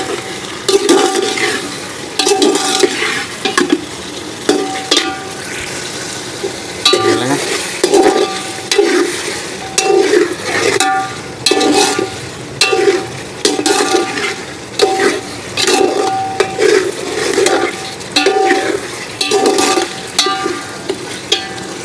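Spices, dried plums and tamarind stir-fried in a pot for white yakhni pulao, a spoon scraping in steady repeated strokes over a continuous sizzle, loud and close, with no talking.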